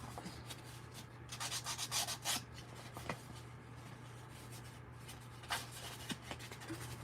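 Sandpaper rubbed over a paper craft print to give it an aged, antique look, heard as close, scratchy scrubbing strokes in uneven bursts with quieter pauses between them.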